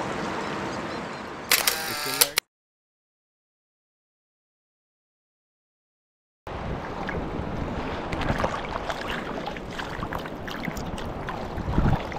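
A quick burst of camera shutter clicks from photos taken on a fishing trip in the Amazon rapids. After the clicks comes a few seconds of silence, then steady wind and water noise from the boat.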